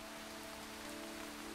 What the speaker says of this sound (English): But it is starting to rain, so I guess I'll hide out here for a while.